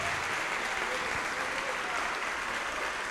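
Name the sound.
church congregation applauding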